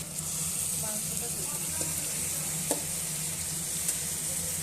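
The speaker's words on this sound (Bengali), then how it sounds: "লাল করে ভেজে নেব মাংসটা।" Mutton with crushed garlic frying in a pan, a steady low sizzle with faint stirring scrapes, a couple of sharp clicks of a utensil, and muffled voices in the background.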